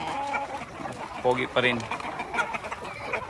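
Shamo and Aseel chickens, an old favourite rooster among them, give short clucks and calls near the microphone in a Philippine yard while someone speaks over them.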